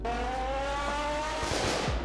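A V6 3.8 car engine in the Roblox video game runs steadily with a strong, even drone and harmonic whine, then a rougher burst of noise near the end, like tyres scrabbling or the revs shifting, with no talk over it.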